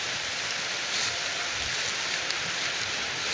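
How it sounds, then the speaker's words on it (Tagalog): Heavy rain pours down in a steady, dense hiss that holds without a break across the whole stretch, fairly close and with no voices over it. "Na, kusog ng ulan."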